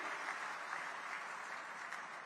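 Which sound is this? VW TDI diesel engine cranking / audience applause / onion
audience applause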